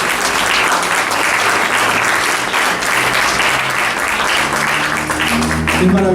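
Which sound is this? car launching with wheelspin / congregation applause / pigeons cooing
congregation applause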